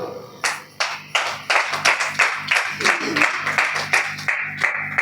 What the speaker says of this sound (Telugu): అందరు కూడా చక్క చేతులు ఓడించి చప్పట్లు కొడుతూ దేవుని అన్మయింపచ్చు